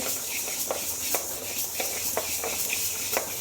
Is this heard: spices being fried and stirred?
yes